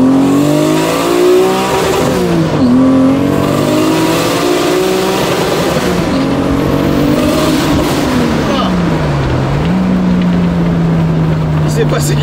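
A car engine pulls hard through the gears, rising in pitch, dropping at each shift and climbing again, then stuttering against a boost cut limiter; loud in-cabin drone with voices underneath.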